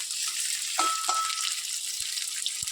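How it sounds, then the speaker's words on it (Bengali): Onions frying in oil in a wok give a loud, steady sizzle that runs throughout, with a couple of light utensil clinks early on. "পেঁয়াজগুলো দিয়ে দিলাম, ভালো করে লাল লাল করে ভেজে নেব।"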